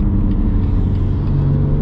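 A GT3 sports car on a race track gives a steady, loud engine drone with low rumble and a faint whir, close and continuous throughout.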